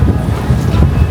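Loud, blustery, cold winter wind buffeting the microphone in snow at Nami Island, South Korea, a constant low roar with no break.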